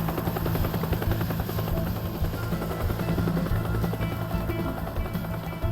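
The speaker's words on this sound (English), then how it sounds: "just about avoiding being shot by the helicopter again" A helicopter in the video game Teardown hovers nearby, its rotor producing a loud, steady, continuous drone with a rough pulsing texture throughout, and no voices.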